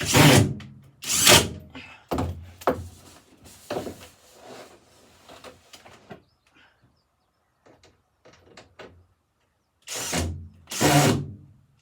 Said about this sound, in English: try and put the screws in